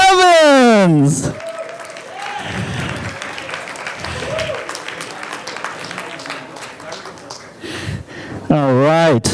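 Audience applause fills a tech-demo presentation hall as a presenter is welcomed on stage, a sustained wash of clapping lasting several seconds, with a voice speaking just before and again just after.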